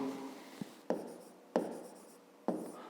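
Pen writing by hand on paper while solving a fifth-grade math exercise on a square's perimeter: three crisp, close strokes at irregular intervals, each a sharp scratch fading out, with no talk over them.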